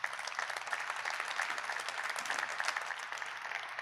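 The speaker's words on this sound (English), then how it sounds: "Let's hear a round of applause for our panel up here." Audience applause for a panel at a building-codes conference, an even, continuous patter of many hands at moderate level, sustained throughout without cheering or voices.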